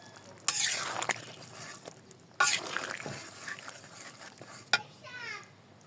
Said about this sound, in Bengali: এখন এই মশলাটা আমি বেটে নিয়েছি, এখন এটার সাথে মিক্সড করে দিব।